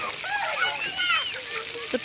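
Water splashes and patters steadily at a large outdoor splash pad, with children's voices chattering and calling over the spray.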